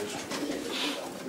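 Pigeons in a breeding loft coo softly, a faint low murmur of bird calls heard at a distance.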